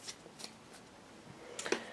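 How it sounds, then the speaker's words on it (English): Wild Unknown Tarot cards being shuffled by hand, soft quiet riffling flicks in short bursts with a few sharper snaps near the end, close and faint. "shuffling the cards from the Wild Unknown Tarot"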